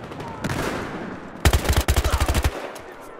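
Shotgun gunfire in the video game Battlefield Hardline: a quiet lead-in, then a loud rapid string of about a dozen close shots packed into one second.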